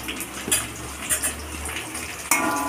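Whole garlic cloves and ginger paste are added to a pan with green chillies while cooking a chicken dish. Faint sizzling and soft metallic scraping come up close in brief uneven strokes, with a louder clatter near the end.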